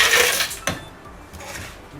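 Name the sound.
crushed ice being added for cold coffee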